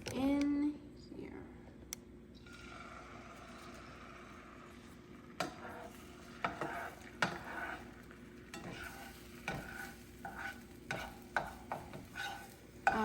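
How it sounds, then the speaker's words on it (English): Eggs being stirred and broken apart in a hot pan, quiet scattered scraping taps and a faint sizzle, with soft talk underneath. "So the pan is all heated up, so I'm gonna dump my eggs"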